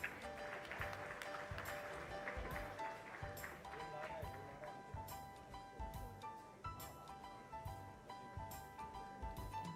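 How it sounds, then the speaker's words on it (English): Audience applause at a management convention, steady clapping from a crowd in a large hall, moderately distant and continuing throughout with some tonal sounds mixed in. "let's welcome them with a round of applause"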